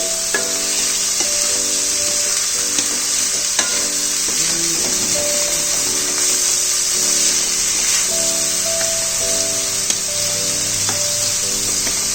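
Salt being stirred into a spinach, potato and pea curry in a frying pan, a steady close sizzle with scraping spoon strokes against the pan running throughout, no voices.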